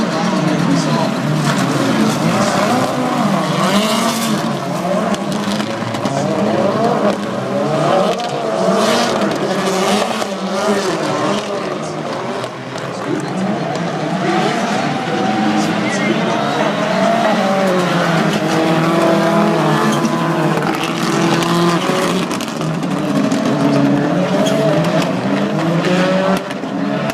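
Global Rallycross race cars at New Hampshire Motor Speedway roar past in a loud, continuous pack, engines revving and tires scrubbing and squealing through wheel-to-wheel battles, with a commentator talking over the noise throughout.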